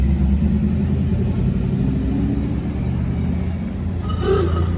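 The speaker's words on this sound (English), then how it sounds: "And there goes Mike in his 63" A 1963 classic car pulls away at a street car show, its engine a loud, steady rumble throughout that swells slightly near the end.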